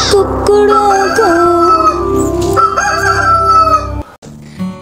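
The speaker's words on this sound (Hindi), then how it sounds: "कुकड़ों को मुर्गा बोले कुकड़ों को" A rooster's cock-a-doodle-doo in a Hindi children's rhyme song, one long crow sung over bright music that cuts off near the end.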